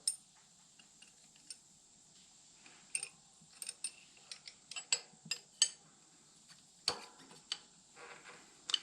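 Metal wrenches clink and tick against the oil drain plug of a Briggs and Stratton lawn mower engine, a scattered series of small, close metallic clicks and taps with quiet gaps, no voices.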